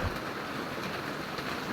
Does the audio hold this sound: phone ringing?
no